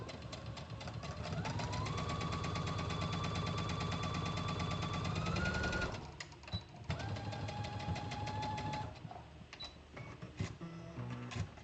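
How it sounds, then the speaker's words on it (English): A domestic sewing machine runs steadily, stitching a T-shirt dress with a fast, even mechanical rattle. It stops midway, then makes brief fabric and handling noises. "I'm gonna sew that one again one more time"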